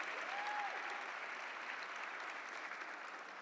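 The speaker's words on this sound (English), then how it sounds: "She deserves an applause" Guests at a LULAC national legislative awards gala give a congresswoman a round of applause: even, continuous clapping from a sizable audience, heard from a distance and fairly soft, holding steady for several seconds.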